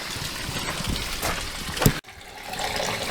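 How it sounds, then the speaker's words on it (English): Heavy rain falls as a dense, continuous wash of noise. A brief bump and a sharp cut interrupt it partway, and then the rain carries on steadily. "It's raining too hard."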